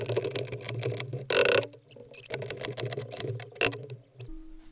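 A hand crank on a bowstring stretching jig ratchets in quick, repeated mechanical clicks, close and fairly loud, with a few brief pauses between turns.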